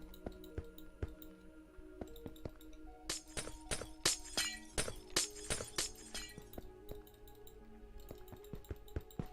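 Glass blocks shattering in the Minecraft video game, a dense cluster of sharp breaking crunches in the middle, with scattered clinks and light clicks before and after and no talking.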